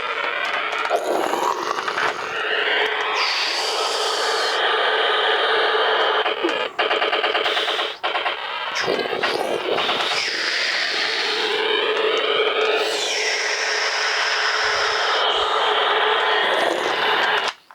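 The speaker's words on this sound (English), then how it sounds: "once the handle comes down, it makes a definite annoying sound." A continuous electronic whirring and jet-like whine from the pulled-down handle mechanism of a 1993 G.I. Joe Ghost Striker F-16 toy jet, shifting in pitch with buzzy sweeps and clicks, close and constant throughout.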